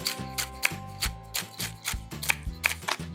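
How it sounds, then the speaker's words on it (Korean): A knife finely chopping almonds, walnuts and pumpkin seeds on a board for pan-fried seasoned laver, a brisk run of close, crisp thuds with quick irregular strokes and no voices. "그래서 약간 곱게 썰을게요."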